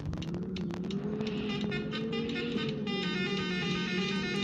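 A bus engine in the Bus Simulator Ultimate video game, Adana to Gaziantep route, hums steadily and continuously with a low droning tone and faint overlaid game sounds, with no talking.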